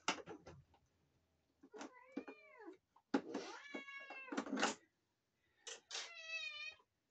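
Several cats meow insistently at feeding time on a farm, with a string of close, clear, rising and falling meows in separate bursts and short quiet gaps between them.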